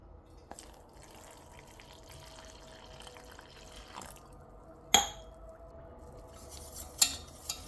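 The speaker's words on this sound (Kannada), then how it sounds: "ಈಗ ಎಷ್ಟು ಬೇಕು ಇದಕ್ಕೆ ನೀರು, ಕನ್ಸಿಸ್ಟೆನ್ಸಿ ನಿಮ್ಗೆ ಯಾವ ಥರ ಬೇಕು ಅಷ್ಟು ನೀರು ಹಾಕ್ಕೊಳ್ಬೇಕು" Water poured into a pot of horse gram for ganji, a porridge, comes through as faint trickling and scattered drips, with a few sharper clinks of metal toward the end.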